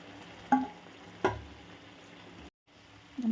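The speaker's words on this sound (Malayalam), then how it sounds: "ഇനി നമുക്കിതിലേക്ക് വറുത്ത് വെച്ചിരിക്കുന്ന ചെമ്മീൻ ഇട്ട് കൊടുക്കാം" Fried prawns tipped into a boiling Kerala-style prawn roast curry and stirred, giving two sharp clattering thumps from the pot a moment apart, a soft simmering sizzle between them, a brief hush, then more stirring.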